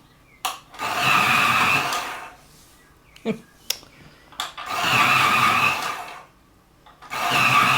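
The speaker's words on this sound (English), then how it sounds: "I'm going to use the warm grey 4. I'm just going to sharpen that." A warm grey 4 coloured pencil is turned in a sharpener, heard as two long grinding bursts of scraping separated by short clicks and taps, close and fairly loud.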